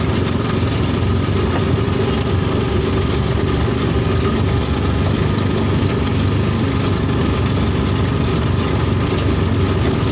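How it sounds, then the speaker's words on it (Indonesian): A homemade car built around a motorcycle engine, running close by with a loud, steady, unbroken engine drone that holds at the same pitch for the whole stretch. "membuat mobil bermesin motor seperti yang saya pakai ini"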